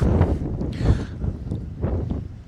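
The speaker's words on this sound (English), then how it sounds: "it is very windy out here" Gusty wind roars and buffets the microphone outdoors at an apartment fire scene, a steady low rumble that swells and dips throughout.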